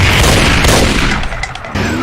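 A barrage of heavy railgun shots in a Doom mod, loud dense blasts piling up over a roaring, booming background that thins briefly before surging again.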